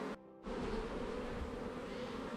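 Honeybees buzzing steadily at a small hive colony, a dense close-up drone that dips briefly near the start and then holds level.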